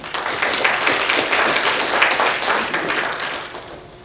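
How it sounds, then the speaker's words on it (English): Audience clapping at an alumni awards ceremony, a dense, even patter of many hands sustained for a few seconds before gradually easing off near the end. "Let's give Mr. Dan Bacala a round of applause"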